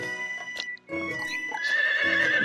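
A horse neighs in the farming game Harvest Moon: Light of Hope, giving a couple of loud whinnies over a steady game music backdrop, with the longest call rising toward the end.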